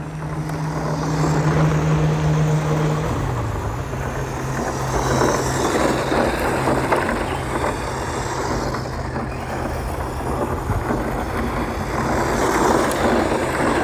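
An RC dually truck from Cen Racing with a brushed electric motor drives around, its motor whining and rising and falling in pitch as it accelerates and slows, with a steady tone near the start and no talk.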